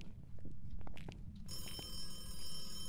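A telephone rings inside a room in the ghost-hunting video game Phasmophobia, a steady electronic ringing tone starting abruptly midway and sustained under faint background noise and scattered clicks.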